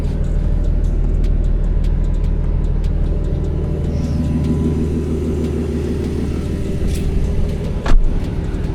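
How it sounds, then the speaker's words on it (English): A steady low whirring hum of the air conditioning fills the interior of an Infiniti Q50, broadband and constant, with a brief thump near the end. "I don't know if y'all can hear me with this AC"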